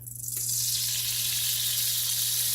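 Pork-fat ghee sizzles steadily in a hot pan, a bright continuous crackling hiss that swells in the first half-second and then holds loud and close, with a low steady hum beneath and no talk.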